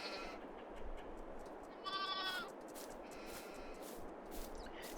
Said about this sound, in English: And here's some lambs.